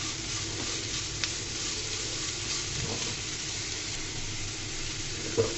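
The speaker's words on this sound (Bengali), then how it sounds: "খুব সামান্য তেল দিয়ে আমি এগুলো ভাজাভুজি করতেছি।" Grated potato and carrot frying in a little oil, a soft even sizzle with faint stirring clicks, fairly quiet and with no talking.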